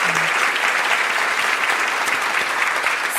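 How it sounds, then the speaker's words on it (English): A seated audience claps steadily throughout, a dense, even round of applause at a speaker event with no voices rising above it. "And so let's give Brianne a round of applause today for her work."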